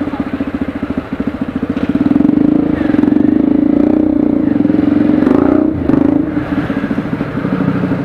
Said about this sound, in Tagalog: Yan yung ginamit nating motor.